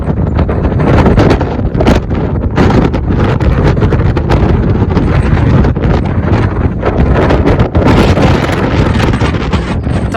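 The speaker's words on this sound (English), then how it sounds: "And it's really windy up here as well." Strong wind buffets the microphone at the exposed summit of Camlough Mountain, a loud, continuous rumbling roar with gusty surges throughout and no voices.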